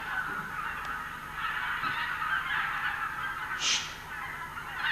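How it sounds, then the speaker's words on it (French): Wild geese heading south from Canada honk in a faint, distant chorus, a steady broken gabble drifting overhead with one brief louder call, no voices over it. "Les oies sauvages, tu les entends? Elles viennent du Canada, ils vont vers le sud."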